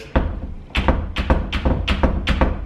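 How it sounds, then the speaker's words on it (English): A door shutting repeatedly, each close ending in a sharp rattling knock, about five times in quick succession, close by. "when I shut the door, there's like this rapping noise"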